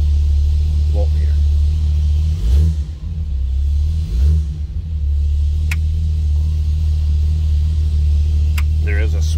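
A 1931 Ford Model A street rod engine idles after a cold start, a steady deep rumble close by with a brief dip in the middle and faint talk over it.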